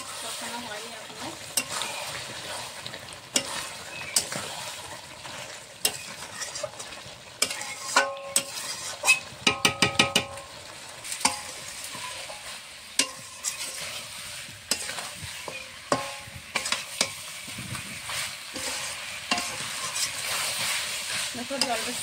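Goat liver and offal stir-fry in a pan, sizzling steadily while a spatula scrapes and knocks repeatedly, with a quick burst of rapid clatter midway and continuous frying throughout.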